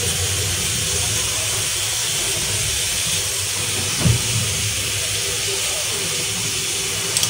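Oil for a lamb offal dish sizzles in a pan with a dense, continuous hiss, close and fairly loud, with one brief thump partway through.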